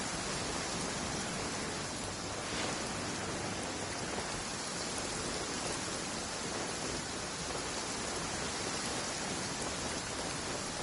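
Steady rain in the Genshin Impact video game, a dense, even hiss of falling drops that holds unbroken and fairly loud throughout, with no voices over it.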